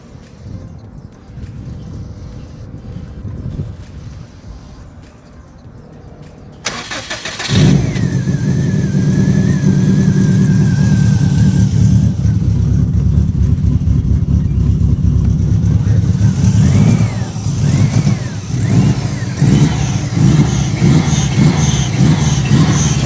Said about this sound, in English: even got the engine started, which I'll show here